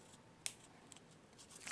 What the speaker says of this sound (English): trim it with my scissors here in a second